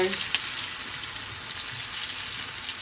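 Potatoes sizzling in a pan with oil, a steady bright crackling hiss, close and continuous, with a brief clink at the start.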